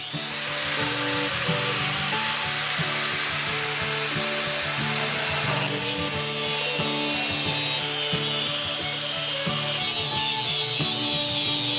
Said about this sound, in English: Then it was on to many hours of grinding